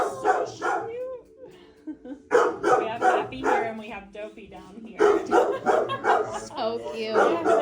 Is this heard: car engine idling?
no